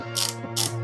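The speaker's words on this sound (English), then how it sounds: "You keep turning it until it ratchets down." A muzzle brake on a Sentinel Elite rifle in .223 Wylde is turned onto the barrel, giving two sharp metallic ratchet clicks close up over a faint steady hum.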